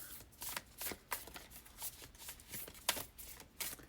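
Tarot cards being shuffled by hand, a run of crisp riffling bursts at an irregular rhythm, close and fairly quiet, with no voices.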